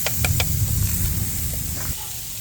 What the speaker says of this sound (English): I'm going to put these onions in here. I want to get some grilled onions going.